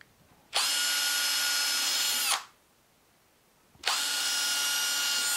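A power drill whines at high speed in two steady bursts of about two seconds each, drilling holes in timber, separated by a short quiet pause.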